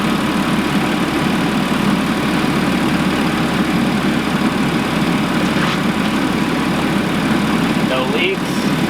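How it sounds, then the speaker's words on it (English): An Audi engine idles with an open air box, a steady low rumble and intake hum holding constant throughout, close and loud with no revving. "There we go, we got a good idle."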